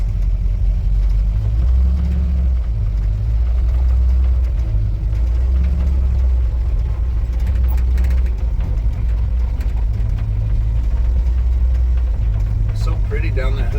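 Restored 1947 Ford car on its first drive, its engine giving a loud, steady low rumble from inside the cabin with slight shifts in pitch, and a voice speaking now and then over it.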